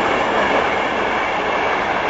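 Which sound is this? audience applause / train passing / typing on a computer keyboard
train passing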